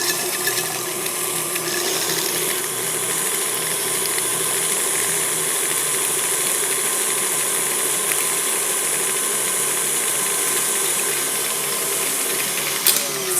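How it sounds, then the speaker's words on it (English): Butter being whipped for honey butter with a powered mixer, a steady loud mechanical whirr with a rattling rhythm held throughout, no talk. "We're gonna whisk this for a couple minutes to make it light and fluffy."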